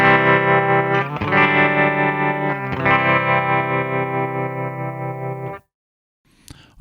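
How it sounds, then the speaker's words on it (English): A guitar amplifier's tremolo effect pulses a sustained distorted chord with a steady wavering volume, restruck a couple of times before cutting off abruptly into silence, followed by a faint brief noise. "And finally, we get a tremolo effect."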